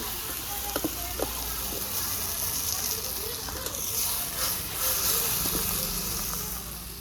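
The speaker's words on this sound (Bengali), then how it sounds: "মশলার সঙ্গে মাছটা খুব ভালোভাবে ভাজা হয়ে গেছে" Fish frying in a spice paste in a pan, giving a steady, close sizzle and hiss with occasional light clinks of a utensil. A voice is faintly present in the background.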